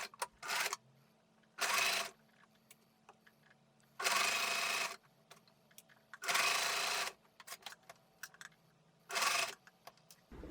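Sewing machine stitching a soft fabric sleep mask, running in five separate bursts of about a second each with quiet pauses between, close and clear.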